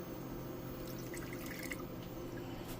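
Water poured into a roasting pan holding a fresh young turkey, a steady close trickling and splashing across the bottom of the pan with scattered drips, continuous and fairly quiet with no talk.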